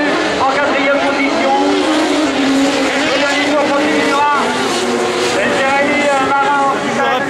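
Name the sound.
racing buggies passing by on a race track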